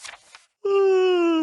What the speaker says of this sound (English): He stretched and yawned loudly.